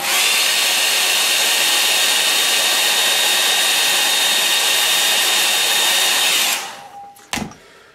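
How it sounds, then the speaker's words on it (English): A hair dryer blows a steady, loud, whooshing roar over a watercolour painting for several seconds, then winds down and stops, followed by a brief clunk. "I'll dry that off"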